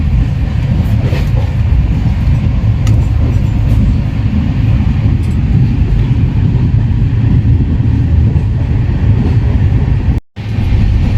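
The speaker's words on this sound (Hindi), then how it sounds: "अभी ट्रेन का रफ्तार कितना ज़ोर से स्पीड पकड़ चुका है।" Inside an AC chair car of the Shatabdi Express running at speed, a loud, steady low rumble and rattle of wheels on track carries on without pause, with a short dip near the end.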